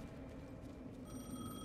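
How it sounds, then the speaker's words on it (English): A telephone rings in the video game Alan Wake II, its steady electronic tones sounding faint over a low ambient background hum, with no talk. "I did hear the phone ring."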